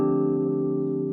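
An electric piano preset played dry without chorus, a sustained chord with a rich harmonic body, steady and even for about a second, alone with no voices.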